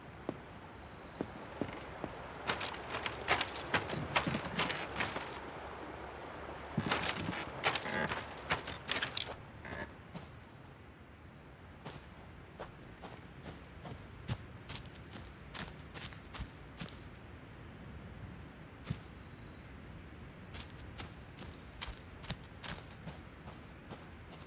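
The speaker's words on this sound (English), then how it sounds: "Let's hear how that sounds as the player walks across multiple surfaces." Video game footsteps cross several different surfaces in a steady, crisp walking rhythm that is louder and denser at first, then lighter and more evenly spaced, with no talk.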